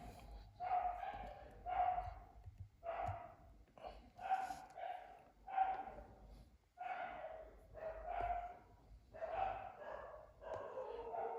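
Dogs fighting outside, a run of sharp, repeated barks and yelps coming in steady bursts at moderate distance, loud and rough.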